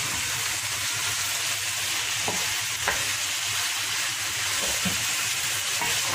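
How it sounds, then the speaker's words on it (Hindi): Mixed vegetables and masala stirred and frying in a little oil in a desi-style pan, a steady close sizzle running throughout with occasional scraping strokes of the spoon, no voices. "मसाले को अच्छे से नीचे से मिक्स कर लें।"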